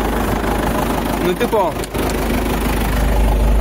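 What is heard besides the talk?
tractor engine idling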